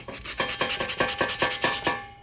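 Hand sanding of surface rust off Ford Fairlane front-end parts, a rapid rhythmic back-and-forth scrubbing of about a dozen strokes, close and loud, alone without any talking.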